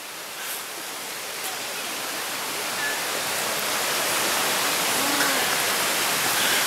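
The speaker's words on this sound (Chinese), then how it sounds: "白丝瀑布，哇塞！" Shiraito waterfall in a snowy Japanese setting, a steady broad rush of falling water that swells slightly louder over the span, constant and enveloping with no distinct breaks.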